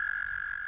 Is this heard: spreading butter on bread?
no